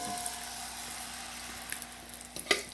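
Cornbread dressing sizzles in a skillet with a steady, fairly quiet hiss, and a few brief louder crackles and scrapes come near the end.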